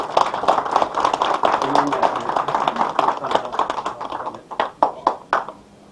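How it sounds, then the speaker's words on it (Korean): Staff at a company gathering applaud for January birthdays, a dense round of clapping with some voices in the mix that thins into a few separate, sharp claps near the end. "1월 생일 축하 우리 박수 한번 부탁드립니다"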